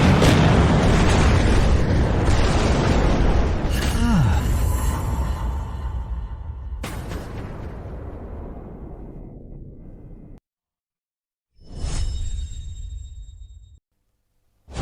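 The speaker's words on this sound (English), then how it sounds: "Fire the cannons!" Cannons fire and explode in a battle, a long loud roaring blast that slowly decays, then after a short silence another heavy boom rises and cuts off.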